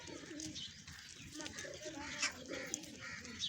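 Soft, low pigeon cooing repeats through the clip under a steady background hum, with a few faint higher chirps mixed in, as a pigeon is held in someone's hands.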